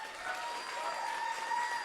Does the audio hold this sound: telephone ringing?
no